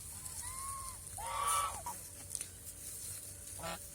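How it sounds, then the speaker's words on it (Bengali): A crested duck on a farm gives a couple of short nasal honking calls, fairly close, over a steady outdoor background hiss with light bird sounds. "এই যে একটা টোপওয়ালা হাঁস আমি দেখাইতেছি"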